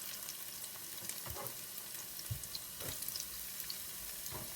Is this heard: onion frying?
yes